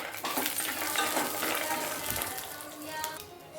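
Peanuts and about ten green chillies fry in a little oil in a kadai, giving a steady, close sizzle with faint stirring scrapes and a voice talking quietly underneath.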